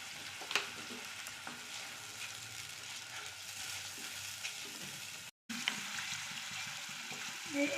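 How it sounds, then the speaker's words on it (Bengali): Ground turmeric, coriander and chilli powder sizzle in a pan, a steady frying hiss with occasional stirring scrapes, briefly cutting out before resuming. "একটু ভাজা হোক"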